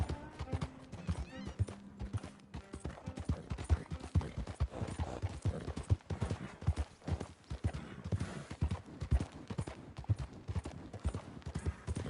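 Horse hooves clip-clopping steadily as it is ridden, a close, rhythmic run of hard footfalls lasting throughout, with a brief voice early on.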